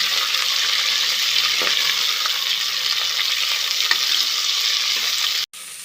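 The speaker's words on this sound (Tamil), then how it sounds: "மூணு மீடியம் சைஸ் வெங்காயத்தை நீல வாக்கில் கட் பண்ணி வச்சுருக்கேன் நல்லா பொன்னிறமாக வர வரைக்கும் வதக்கிடலாம்" Three medium onions, sliced lengthwise, sauté in hot oil in a pan, giving a steady, dense sizzle up close with faint stirring taps, cut off briefly by a sudden dropout near the end.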